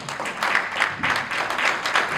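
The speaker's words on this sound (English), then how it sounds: "We need to give you a round of applause." A gala audience breaks into applause, a dense wash of many hands clapping at moderate distance with gentle swells, sustained throughout.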